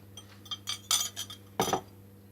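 Brownie batter being mixed in a bowl with a utensil, heard as a few close scraping and clinking knocks against the bowl at uneven intervals, quiet overall with no talking.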